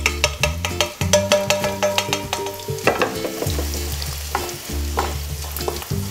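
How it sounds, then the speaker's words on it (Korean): Anchovies and cheongyang chili peppers stir-frying in a pan, with rhythmic spatula scrapes and clacks over a constant crackling sizzle, close and busy. "자, 멸치를 넣고 또 1분에서 2분 정도 볶아주세요."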